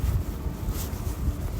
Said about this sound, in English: It's a little too windy right now.